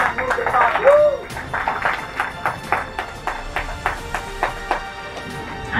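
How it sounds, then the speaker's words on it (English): Audience applause and cheering break out at a steel company's product launch, with a speaker's voice on top at first before the crowd continues in a rhythmic patter of clapping. "let's clap for the woman who is the power"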